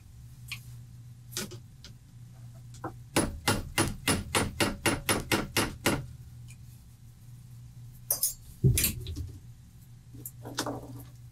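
A hammer strikes metal crimps on a fork windchime in a quick, even run of about a dozen sharp taps, with a few scattered knocks and handling clatter before and after.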